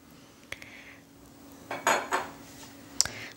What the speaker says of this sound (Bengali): এটাকে নাড়াচাড়া করা হবে।